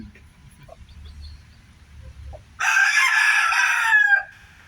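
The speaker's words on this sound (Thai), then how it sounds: "ลูกไก่อายุสามวันแล้วครับ" A rooster crows loudly and close by for about a second and a half beside a canal where a hen is raising three-day-old chicks, after soft low clucking and farmyard rustle.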